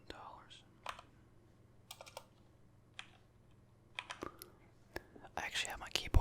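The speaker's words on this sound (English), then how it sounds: "I actually have my keyboard on my lap, so I can't really look while I type" Computer keyboard typing with the keyboard held on a lap, scattered clicks and short bursts of keystrokes, soft and close, interleaved with quiet whispered talk.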